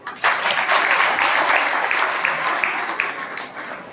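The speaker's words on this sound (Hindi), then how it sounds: "इसलिए सूर्यकांत के लिए ताली बजाई।" Audience applause fills a community award ceremony hall, a dense, steady clapping from a crowd that starts abruptly and carries on at full strength before tapering slightly.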